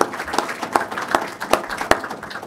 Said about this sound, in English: You guys deserve a round of applause that you did that so well.